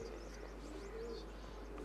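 Domestic pigeons in a loft flock, a flight of around 110 birds, give soft, low cooing that continues steadily through the short stretch, quiet and somewhat distant over a constant low hum.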